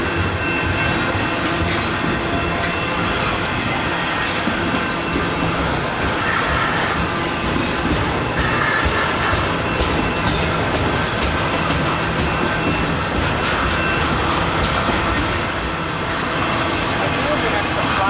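A Canadian Pacific freight train passes at Pitt Meadows, a loud continuous rumble and clatter of railcars with faint wheel squeal, close by and unbroken for the whole stretch, while voices can be heard under the noise.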